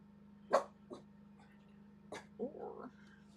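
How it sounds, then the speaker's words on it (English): A few sharp dog barks, spaced apart and fairly close, over a steady low hum with quiet background sound. "hear Poncho barking"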